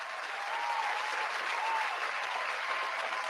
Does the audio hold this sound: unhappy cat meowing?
no